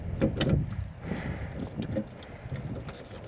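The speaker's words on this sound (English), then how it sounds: "Let me see the keys I have here." A bunch of keys jangles and clinks close by as they are handled and sorted, with repeated bright metallic rattles throughout and no talking.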